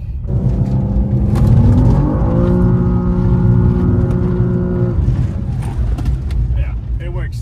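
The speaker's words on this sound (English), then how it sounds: "We're gonna do second gear clutch kick." A BMW M2 drifting on a dry street after a second-gear clutch kick, its engine revving hard and holding a loud, rising roar for several seconds before easing off, with a voice heard underneath.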